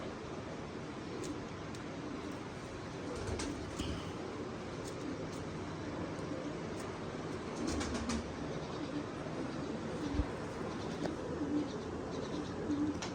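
Domestic pigeons coo softly in a backyard loft setting, a low steady murmur of birds under faint background noise with occasional brief louder knocks.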